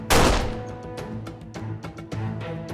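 A single loud gunshot cracks at the start, followed by a few fainter sharp bangs scattered irregularly through the rest of the clip.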